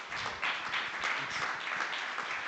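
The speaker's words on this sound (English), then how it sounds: "Let's give a round of applause to Noah." Conference audience gives a round of applause, moderately distant and fairly quiet, a continuous patter of many hands clapping without voices on top.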